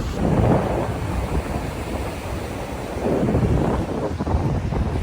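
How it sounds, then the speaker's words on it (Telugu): Strong wind on a Goa beach buffets the microphone in heavy rumbling gusts, rising and falling, with a faint surf-like roar behind it. "గాలి వస్తుంది"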